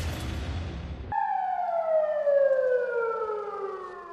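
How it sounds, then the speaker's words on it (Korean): After a second of rumbling tunnel-construction machinery, a loud tunnel blasting warning siren blares alone underground, a sustained wailing tone that slowly falls in pitch. "응급 상황을 알리는 사이렌 소리가 요란하게 울려 퍼진다."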